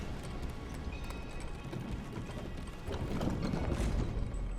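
A horse gallops in the Elden Ring video game, a quick rhythmic clip-clop of hooves against a low ambient rumble, growing louder and busier toward the end.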